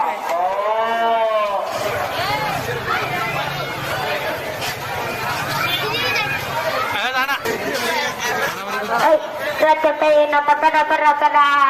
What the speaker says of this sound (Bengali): আসুন ভাই আসুন, এখানে বিরাট বড় গরু পাওয়া যাচ্ছে, মোটা তাজা লম্বা।